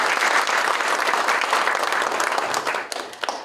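An auditorium audience at an industrial complex ceremony gives loud welcoming applause, a dense burst of clapping that thins out and trails off near the end.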